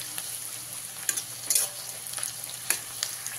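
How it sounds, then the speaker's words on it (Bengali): Onions frying in a pan for water spinach curry make a soft, steady sizzle, with occasional sharp clicks of a spatula stirring against the pan, no talking. "দেখুন পেঁয়াজটা ঠিক এইরকমভাবে ভেজে নিয়েছি হালকা লালচে করে"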